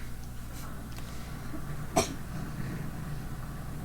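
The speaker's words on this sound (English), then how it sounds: "Quick coughing over there." A single short cough from a player in the Life is Strange finale, sharp and brief, in the middle of a quiet room-tone background with no other notable sounds.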